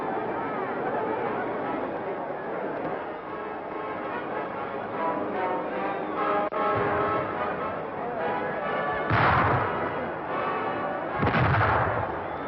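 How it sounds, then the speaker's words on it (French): Tear gas grenades burst during street riots, with two loud, booming blasts late in the stretch over a steady murmur of crowd noise and distant commotion. "marqué par l'éclatement des grenades lacrymogènes et de courtes bagarres"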